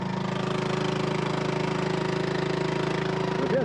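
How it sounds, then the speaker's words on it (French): A small boat engine runs steadily close by as the boat leaves its mooring, a constant rapid chugging drone with no break, loud and alone. "C'est bien ce petit moteur là."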